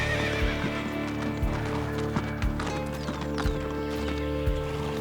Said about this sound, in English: horses range from their powerful 45 km/h gallop to the 20 km/h canter, the 15 km/h trot